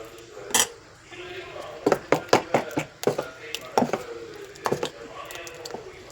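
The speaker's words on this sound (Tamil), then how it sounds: "அடுத்தது தண்ணி ஊற்றிட்டு நல்லா மிக்ஸ் பண்ண ஆரம்பிக்கலாம்" A utensil mixes wheat dosa batter with water in a bowl, giving a run of quick, light clinks and taps, a few at a time with short pauses, fairly faint and close.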